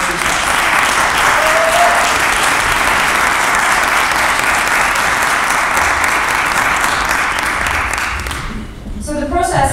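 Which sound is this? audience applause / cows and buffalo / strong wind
audience applause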